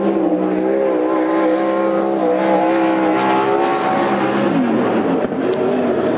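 An unlimited sprint car, the number 26, runs a qualifying lap at Coos Bay Speedway during the Western Sprint Tour. Its engine roars loud and continuous, the pitch rising and falling slightly as it circles the track.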